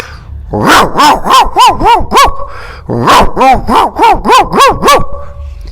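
A voice imitates the cracked, hoarse bark of an old, large dog in two rapid series of about seven to eight loud, close barks each, separated by a short pause.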